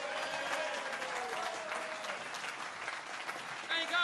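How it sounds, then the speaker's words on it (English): A crowd applauds after a comedy club set, sustained dense clapping heard up close and loud throughout, with a brief voice near the end. "let's keep the applause going"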